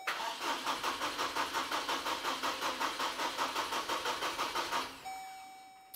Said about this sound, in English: Now I'm going to go ahead and start the vehicle and let any of the fuel run